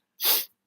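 A single person's sneeze, a short sharp burst of breathy noise, close and fairly loud, with silence before and after.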